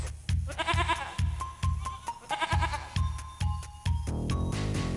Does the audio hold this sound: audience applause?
no